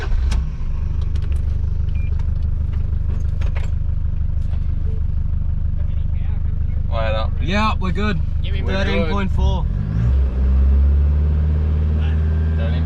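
Engine of a rolled 4WD with a broken alternator running continuously up close, a steady low drone with a faint high squeal, while people talk briefly partway through.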